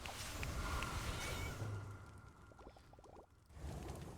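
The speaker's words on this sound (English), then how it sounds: "You hear that meow? That's the guy who follows you." A small cat companion in the roguelite spellcrafting game Spell Disk gives a faint meow amid a dense, noisy background wash, short and quiet, with no one speaking over it.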